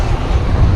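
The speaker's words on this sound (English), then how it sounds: "it's windy" Wind gusts outdoors on a countryside gravel loop walk, producing a loud, low, rumbling buffet right against the microphone for under a second with no voices.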